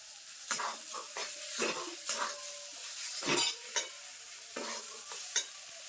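A fried spice mix is stirred into cauliflower chop filling in a pan with a spoon. There is a steady run of sharp scraping and clinking strokes against a soft background sizzle, with no voices.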